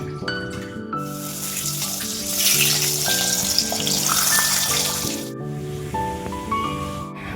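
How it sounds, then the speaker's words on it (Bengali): Eggplant and potato fry in oil during a rice-feeding ceremony feast, with a hissing sizzle that swells in the middle under prominent background music. "এখানে ফার্স্টেই বেগুন আর আলুটা ভেজে নেওয়া হবে।"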